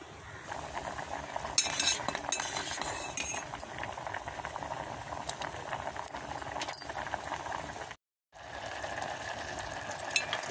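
Rice and moong dal bubble and sizzle in a pot for nuvvula pongal, a steady close simmering hiss with occasional clinks and one brief dropout near the end.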